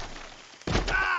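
Gunfire in a roleplay video game as shots are aimed at the ropes holding a balloon, arriving as one sudden loud burst that carries on as a dense, sustained blast of noise.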